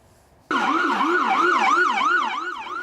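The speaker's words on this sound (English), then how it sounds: "The sirens and the car crash are real" Emergency vehicle sirens at a mock car-crash emergency: a loud wailing siren starts abruptly and sweeps up and down in a fast, regular cycle, close and continuous.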